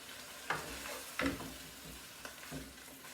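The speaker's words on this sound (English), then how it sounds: "Give that a good mix." Creamy chicken and mushroom mixture being stirred in a pan, faint soft sizzling with a few distinct scraping strokes of the spoon, close and quiet with no talk.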